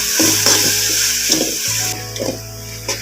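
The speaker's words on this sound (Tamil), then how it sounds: "இப்போது அரைச்சிட்டு வந்த பேஸ்ட்டை போட்டுக்கலாம் இதுவும் இந்த பச்சை வாசனை போக வதக்கணும்" A ground spice paste sizzles and fries in a hot pan for chicken gravy, with a steady crackle and occasional scraping stirs, close up and with no voices.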